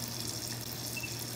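Water running from a tap into a sink during a mouth rinse, a steady close splashing flow with a faint hum underneath.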